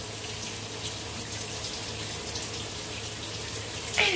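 Shower water runs in a steady, close, hissing stream with no break, and a short splash or clatter comes near the end.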